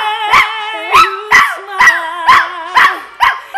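A dog howling along to singing, its voice rising in seven rhythmic, close, loud yelps and wails, each stacked with bright harmonics and set over a sustained low singing tone.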